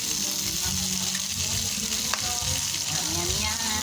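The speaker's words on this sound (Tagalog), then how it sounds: "Kasi nagpipakita ko yung kumukulo siya." A pot of pork stew bubbles and simmers with a steady hissing, sizzling texture, close up and continuous, with a faint clink partway through.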